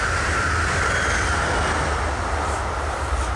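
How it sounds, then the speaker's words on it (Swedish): Train passing near an abandoned railway lineman's cottage at Björkmon in Sweden: a steady, loud rumble of rail cars rolling by, with a sustained rushing hiss throughout and no talk. "Kommer ett tåg till."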